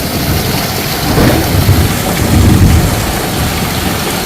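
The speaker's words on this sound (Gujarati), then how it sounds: "આજે છે ને 6 થી 7 ઇંચ વરસાદ હે" Heavy village downpour with rolling thunder, a loud, dense rain roar throughout and low rumbles of thunder swelling in the middle.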